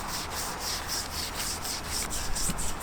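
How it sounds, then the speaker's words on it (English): A wet detailing brush scrubs the bodywork of an Audi RS3 during a wash, making a soft, rhythmic back-and-forth rubbing with regular strokes, close and fairly quiet, with no voices. "A wet detailing brush, specific for body work, doesn't make scratches, and just gently"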